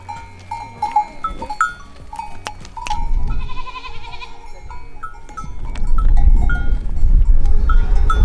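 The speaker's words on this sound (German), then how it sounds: "Und dann kommen hier einfach die Ziegen." Goats bleating on a mountain hiking trail in Spain, several short cries close by with cowbells clanking, footsteps and wind rumble growing louder toward the end.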